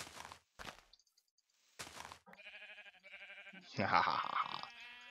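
Sheep bleating in the Minecraft video game, a few short synthetic bleats with tonal harmonics sounding mid-clip, followed by a louder burst of game noise.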